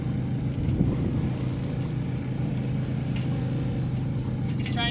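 A sailboat motors along under engine power, its low, steady engine drone and hum running continuously beneath light wind and water noise, fairly quiet.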